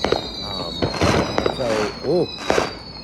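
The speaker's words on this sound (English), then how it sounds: "We got fireworks going off out here." Fireworks burst outdoors on the 4th of July, several sharp cracks and booming pops in an irregular sequence, fairly close and loud, while someone talks over them.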